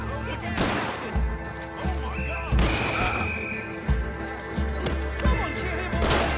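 Gunfire in a Western video game set in the city of Saint Denis: repeated sharp shots and heavy thuds burst out at irregular intervals amid shouting voices and clattering action.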